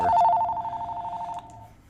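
A telephone bell rings with a steady, close trilling ring that carries for about a second and a half before cutting off, with no talk over it.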